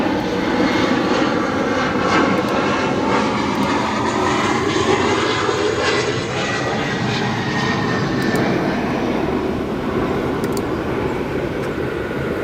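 A United Express airliner arriving at Chicago O'Hare airport, its engine roar loud and steady throughout with a sweeping, shifting tone as it passes, no voices.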